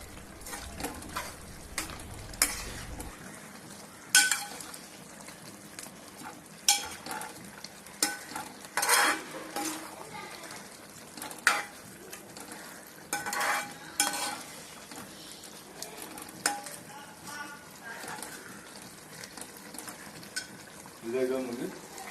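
Beef roast fries in a pan while a utensil stirs it. Soft, steady sizzling runs under intermittent scraping and clattering strokes against the pan, fairly quiet overall.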